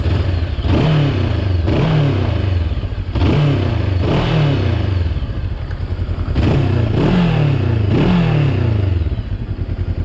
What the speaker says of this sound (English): Now some revs, because I have to give you some revs.